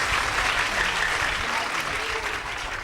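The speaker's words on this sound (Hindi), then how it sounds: "चलो जोरदार ताली हो जाए निष्ठा बेटी के लिए" An audience at an Acharyakulam school program in Haridwar applauding loudly, dense continuous clapping from many hands filling the room throughout.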